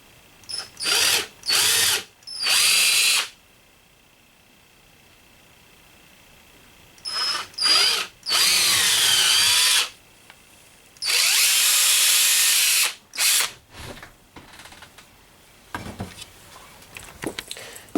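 A power drill bores holes in leather in several loud, close bursts of whirring motor, short and long, separated by quiet pauses and some handling clatter.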